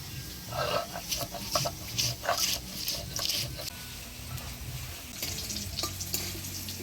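Potatoes stirred in hot mustard oil tempered with black cumin and dried red chillies, for a Bengali fish curry with potatoes and pointed gourd; bursts of scraping and sizzling come and go over steady background noise.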